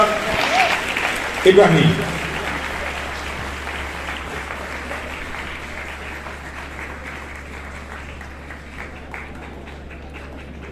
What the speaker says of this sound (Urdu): استقبال کریں آپ کی بھرپور تالیوں کے اندر